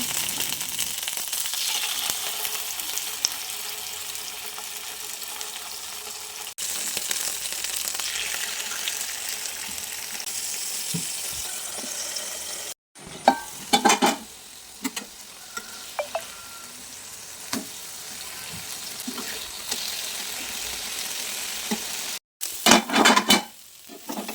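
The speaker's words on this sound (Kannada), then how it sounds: "ಈಗ ಫ್ರೈ ಮಾಡುವ." Mackerel coated in green masala sizzles steadily in a hot pan, a dense, crackling hiss that carries on throughout, broken by a few brief gaps and sharper bursts of spattering.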